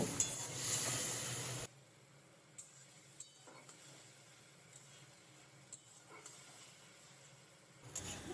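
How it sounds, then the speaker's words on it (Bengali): Ginger and garlic paste with cumin, turmeric and salt frying quietly in a pan, a soft continuous sizzle with occasional faint clinks of a utensil against the metal. "এরপর মশলাটাকে আমি একটু ভালো করে কষিয়ে নেব"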